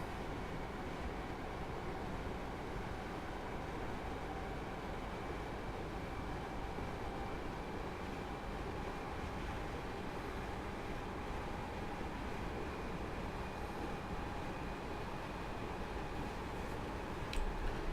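A Class 313 electric train in Train Simulator rolls into Potter's Bar Tunnel, giving a steady, enclosed running rumble with a faint high whine that holds evenly throughout.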